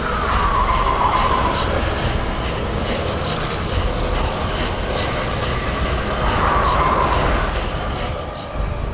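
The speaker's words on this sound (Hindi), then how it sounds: "ड्राइवर गाड़ी संभाल के चलाओ, ये बवंडर हमारी तरफ ही आ रहा है।" Car driving through a raging storm, a loud continuous roar of wind and rumbling engine that surges and swirls, with harsh skidding-like whooshes building twice, wholly dominating the scene without voices.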